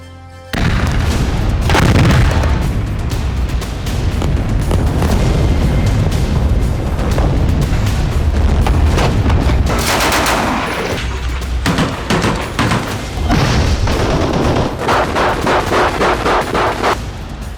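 Explosions and gunfire ring out during an Israeli bombardment in Gaza: heavy booms and rapid shots pile into a loud, dense, nearly continuous barrage that lasts throughout, with no voices.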